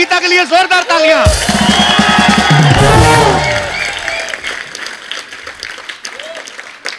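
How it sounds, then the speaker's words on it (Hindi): Studio audience on The Kapil Sharma Show, a TV comedy talk show, bursts into loud applause and cheering for arriving celebrity guests including actress Geeta Basra, swelling for a few seconds before fading as Hindi talk resumes. "जोरदार तालियां"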